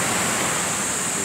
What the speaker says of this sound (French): Ouais les mecs elles sont énormes les vagues